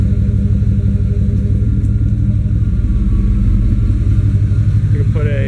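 A 1988-98 Chevy truck engine with a stock cam runs steadily, giving a continuous, loud, low rumble that barely changes over a few seconds.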